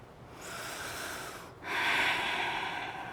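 Steady breath during a seated yoga stretch for the outer left hip, a soft airy exhale that swells midway into a fuller, louder rush of air, close to the microphone with no talking.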